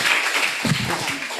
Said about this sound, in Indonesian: Aduh, kita tepuk tangan dulu.